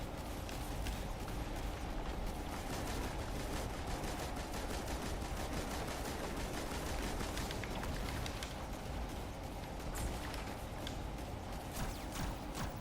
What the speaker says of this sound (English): Shoot, I'm shooting those down.